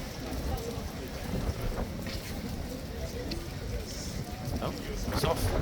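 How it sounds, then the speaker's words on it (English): Strong gusts of wind buffet the microphone outdoors near Horse Guards, a constant loud rumbling roar with surges, while a person talks over it. "It is crazy windy."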